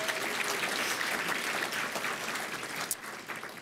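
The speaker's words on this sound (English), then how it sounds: "Please give her a warm round of applause." Audience applause at a civic awards ceremony, a steady dense wash of clapping from a large crowd that holds at an even level throughout with a brief sharper burst near the end.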